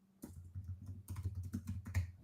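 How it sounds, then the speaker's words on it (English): Someone typing an email on a computer keyboard, a quick irregular run of soft key clicks and taps, close and fairly quiet, with no talk. "typing an email, apparently"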